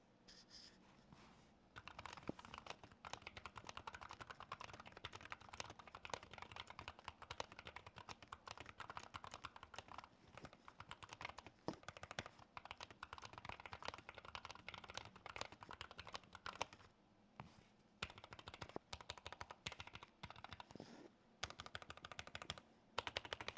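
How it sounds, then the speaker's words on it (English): Steady typing on a low-profile keyboard, a fast stream of soft, crisp clicks close by with brief pauses between bursts. "despite being a low-profile keyboard, it does sound surprisingly nice"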